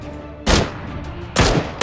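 Two loud bursts of gunfire in a video game about a second apart, close and sharp, with a low background hum between them and another shot starting at the very end.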